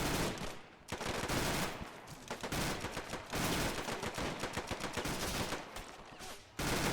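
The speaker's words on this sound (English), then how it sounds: "Bullets flying everywhere" Heavy gunfire in a World War II video game battle, with dense, continuous bursts of rifle and machine-gun fire close by, barely pausing throughout and loud, with no talking.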